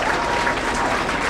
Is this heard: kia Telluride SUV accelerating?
no